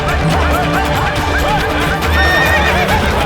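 A horse whinnies repeatedly in a dramatized historical scene, sharp rising neighs over a dense, loud bed of clattering hooves and crowd commotion, with soldiers present as the animal threatens to injure them.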